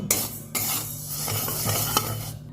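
Mung dal is stirred in a kadai with a spoon, giving a continuous dry scraping rustle over a soft sizzle, with a couple of metallic knocks against the pan.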